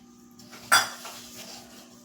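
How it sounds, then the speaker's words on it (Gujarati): A metal spoon clanks once against a pan while sugar is stirred into a paneer peda mixture, one bright scraping knock over a quiet background hum. "અને બધું છે તે બરાબર મિક્સ કરી લેશું."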